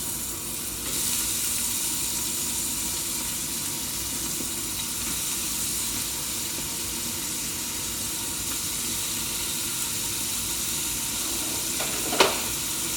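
Garlic, shallot and onions sizzle steadily in a pan for a seafood gumbo, with an even, close frying hiss that holds throughout and one brief knock of a utensil near the end.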